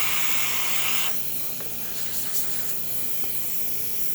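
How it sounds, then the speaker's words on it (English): Steady broadband hiss of a Jura Impressa F7 coffee machine steam wand running continuously, loud and close, with a brief sharper burst at the start before settling. "now let's test the steamer function of the machine"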